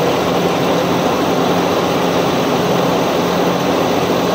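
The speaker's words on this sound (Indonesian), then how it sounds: "sekarang dengarkan suara mesin ya, dengarkan suara mesin ini sambil diputar nih" An engine fitted with a BBG compressed-gas injection conversion kit runs loudly and close with a steady, dense drone that holds even throughout, with no talking.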